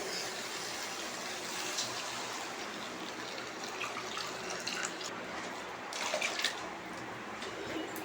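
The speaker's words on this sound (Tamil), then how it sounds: "தேவையான அளவு தண்ணி நான் அந்த மிக்ஸி ஜார்லேயே சேர்த்துக்கிறேன்." Water is poured into a mixer jar while cooking a pumpkin kuzhambu, a soft continuous trickling stream that runs quietly on its own.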